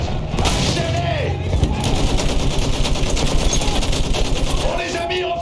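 Sustained machine gun fire in the World War I shooter Battlefield 1, a trench battle with rapid continuous bursts and explosions, loud and dense, with shouted voices underneath.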